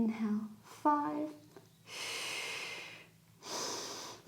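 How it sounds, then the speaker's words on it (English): Breathing during a hip stretch in a rehab and massage routine: two long, steady breaths in the second half, each lasting over a second, close and clear. Brief talk and a short vocal sound come first. "Exhale and inhale."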